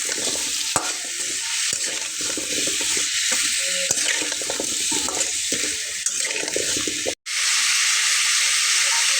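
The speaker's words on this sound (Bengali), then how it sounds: "তো আমি এটাকে খুব ভালোভাবে কষিয়ে নিচ্ছি" Pumpkin and prawn curry is sautéed with turmeric and red chilli powder. A loud, constant hissing sizzle carries scraping stir strokes, and the sound briefly drops out near the end.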